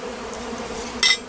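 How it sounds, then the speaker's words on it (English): A dense, steady buzzing of many honeybees hovers close by around an opened hive, with a short sharp scrape near the end. "I'd put some bees in the air there"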